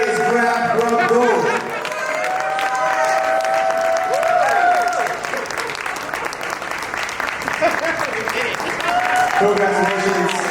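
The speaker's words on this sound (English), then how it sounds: "Round of applause for them." Audience at a university startup pitch competition applauds the announced winner, sustained clapping with some cheering, while a host speaks over it through much of the applause.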